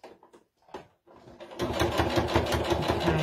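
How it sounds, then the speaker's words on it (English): A sewing machine back tacking a wallet seam starts with a few short stitch bursts and handling noises, then settles into a loud, steady run of rapid stitching, close by. "just sew it to the top there and back tack again at the top"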